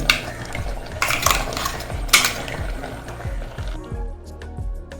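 Ground coconut paste being stirred into padu koottan, a Kerala curry, with a spoon scraping and clinking against the pot in rhythmic strokes, close and fairly loud, with some soft background noise.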